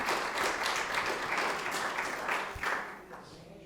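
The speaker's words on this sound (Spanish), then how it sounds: "Den un aplauso ahí de alabanza a su Señor Todopoderoso, nuestro Señor Jesucristo." Church congregation applauding in praise during a sermon, a dense, steady wash of clapping throughout that thins slightly toward the end.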